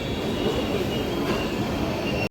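Two trains pulling out side by side at Tenali railway station, one of them a crowded 12743 Vikramasimhapuri Amaravati Express hauled by a WAP-7 locomotive, giving a steady near rumble of rolling stock with faint wheel squeal.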